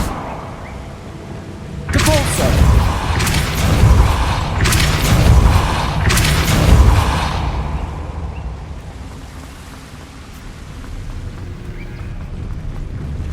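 A Depulso spell cast in Hogwarts Legacy bursts out as a run of loud, booming magical blasts over about five seconds, followed by quieter ambient rumble.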